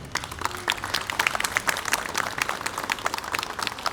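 Applause at a school opening ceremony at Uchtepa Yuksalish school, as the next speaker is welcomed: a crowd claps steadily and densely for the full four seconds, with no voices over it.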